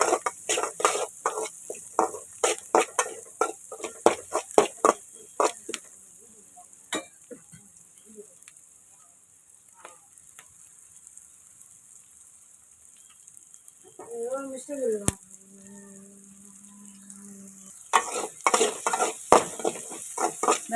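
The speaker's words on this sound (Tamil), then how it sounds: "வெங்காயம் நல்லா செவந்து வதங்கி வரணும்" Onions, garlic and curry leaves cook in oil in a pan. Bursts of sharp spatula scrapes and clatter come at the start and end, with a quieter hiss and a tonal kitchen sound in between.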